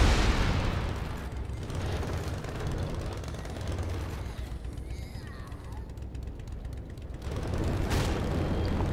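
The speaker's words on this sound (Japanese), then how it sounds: "爆発すんだあれ" A gas station blows up in the zombie video game Dead Rising 3, giving a loud, sustained roar of rumbling blast noise that swells again near the end.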